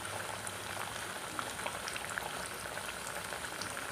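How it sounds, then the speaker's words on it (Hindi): Puris deep-frying in oil that is cooling slightly, giving a continuous, even bubbling hiss with tiny popping crackles, close and fairly soft, with no voices. "ये बाकी की पूरी भी हम तेल में फ्राई कर लेते हैं।"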